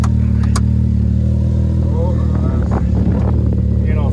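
A damaged Jeep 4x4 engine idles and rumbles loudly and steadily up close as it starts to move off, with voices talking over the drone.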